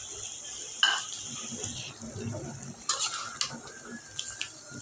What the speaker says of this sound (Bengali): এখন আমি এটার সাথে কিছু কাঁচামরিচ, গোটা গরম মশলা, তেজপাতা একসাথে দিয়ে দিব।